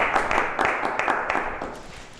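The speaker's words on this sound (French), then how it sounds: "On peut applaudir." Dinner guests at an evening gathering in Chambéry burst into steady, dense applause, a broad wash of clapping with a few sharper claps, slowly tapering off over about two seconds with no talk on top.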